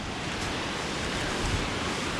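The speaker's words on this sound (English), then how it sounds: "I can see a waterfall over there." A waterfall cascading on Vancouver Island gives a dense, continuous roar of rushing water, steady and broad with no breaks or voices.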